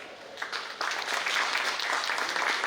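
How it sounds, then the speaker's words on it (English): Audience applause for the speakers at the close of a fireside chat on brand building, a dense steady wash of many hands clapping that swells after a moment and holds loud to the end. "can we have one big round of applause for my speakers?"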